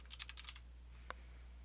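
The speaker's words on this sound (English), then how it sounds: "So you're going to type in the person's name" Quiet, rapid keystrokes on a computer keyboard, a short burst of about eight taps while a name is typed, followed by a pause and one last isolated key press in an otherwise silent room.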